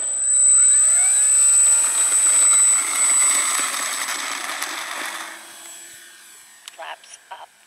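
An E-flite Cirrus SR22 model airplane takes off with a loud, steady high-pitched motor whine that holds for several seconds, then fades as the plane climbs away, leaving a few faint clicks at the end.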